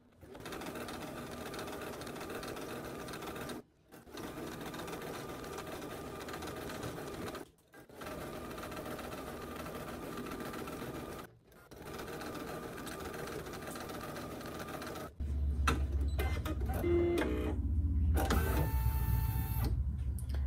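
An embroidery machine stitches horizontal lines in an in-the-hoop project, giving a close, steady mechanical whir in three runs split by short pauses, then a louder, clattering burst with more varied mechanical sounds.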